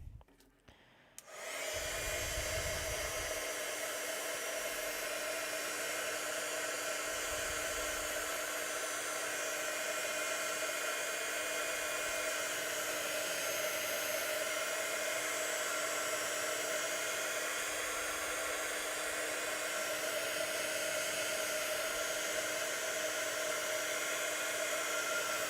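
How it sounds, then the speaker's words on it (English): A heat tool blows steadily for most of the stretch, a continuous loud whirring hiss used to dry watercolour paint on a teapot painting, starting abruptly after a brief quiet moment. "I need to zap it with a heat tool"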